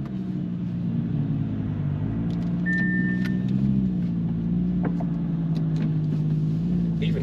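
A new Audi R8 RWD Performance drives along a closed private road, its engine giving a steady, close, droning hum with slight rises and dips in pitch and no talk over it.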